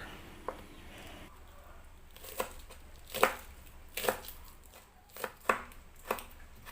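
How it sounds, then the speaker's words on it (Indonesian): A knife chopping spring onions into small pieces on a board, sharp separate taps at an uneven pace, close and alone against a quiet room. "Dan ini ada 2 batang daun bawang diiris kecil-kecil."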